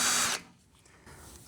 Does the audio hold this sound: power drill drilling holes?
yes